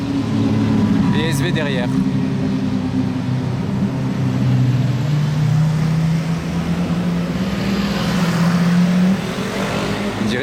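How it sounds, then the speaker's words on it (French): A convoy of Lamborghini Aventadors, one fitted with a Capristo exhaust, drives past with a deep, loud engine drone that rises in pitch as it nears and passes, while a person speaks briefly over it. "Oh, l'échappement Capristo."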